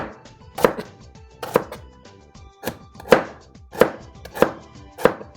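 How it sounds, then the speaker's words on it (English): A knife chops through cabbage on a cutting board with sharp, crisp thunks, about eight irregularly spaced cuts, close and loud in an otherwise quiet kitchen. "I love chopping cabbage."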